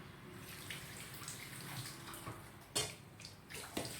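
Running water pours steadily over crispy pork being washed in a sink, with brief splashes and a soft clink near the end.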